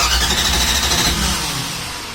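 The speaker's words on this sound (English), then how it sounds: "Go ahead and crank it over." A Ford Ranchero's starter cranks the engine over with no gas in the system, giving a short, loud, steady mechanical churn that eases off toward the end, with no voices.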